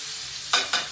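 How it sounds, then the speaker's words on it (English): Garlic sautéing in a pan for a tomato-based sauce: a faint, steady sizzle, then three bursts of scraping and stirring close by, with no talking. "Once the garlic has been sauteing for a minute or two"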